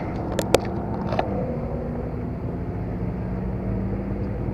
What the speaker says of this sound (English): we got a Lamborghini, Ferrari, and McLaren's leaving for their first drive.